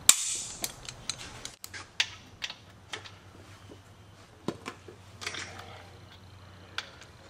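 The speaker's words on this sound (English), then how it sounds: "I'm torquing the main cap to 65." Sharp mechanical clicks from a torque wrench tightening an engine main bearing cap to 65, several distinct ratchet snaps spaced irregularly over a low steady hum, close and fairly loud.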